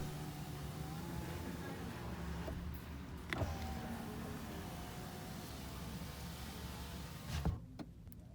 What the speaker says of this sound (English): All 4 windows are automatic up and down.